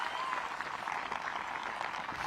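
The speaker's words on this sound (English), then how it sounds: "That is so amazing to have all of those people there cheering for their favorite players" Spectators at the final round of a women's disc golf European Open cheer and clap after a putt drops, a steady, distant, fairly faint roar of crowd noise lasting about two seconds.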